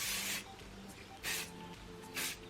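Dry spray is misted through a human-hair ponytail in three short, close hissing bursts, each lasting under half a second, spaced about a second apart against faint background noise.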